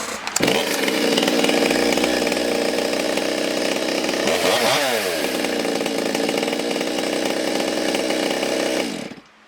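A Stihl MS200T chainsaw that has been fitted with a new intake boot restarts with a sharp pull and settles into a steady, loud, close idle that runs unbroken for several seconds before cutting off at the end.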